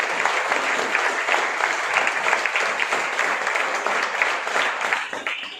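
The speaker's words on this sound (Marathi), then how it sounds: "प्रीती कांगणे मॅडम यांच्यासाठी एकदा जोरदार टाळ्या वाजवूया" An audience at a career academy anniversary function claps for a woman guest, steady loud applause from many hands, a dense rapid patter that holds evenly for several seconds and tapers slightly at the end, no one talking over it.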